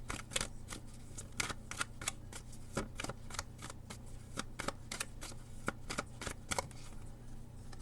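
Tarot cards being shuffled, a rapid run of crisp riffling snaps and slaps repeating steadily at close range over a quiet room, with no talking.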